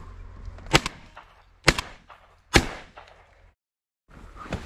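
Three sharp shotgun blasts during a duck hunt, each a loud crack with a brief decaying tail, spaced about a second apart, then a short silence before outdoor ambience resumes.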